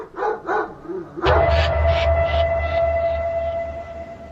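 A black dog barks outdoors in a jungle setting, a few sharp close barks followed by a quick run of fainter, echoing barks over a low steady background hum.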